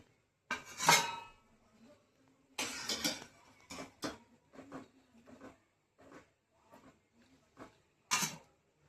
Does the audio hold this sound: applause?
no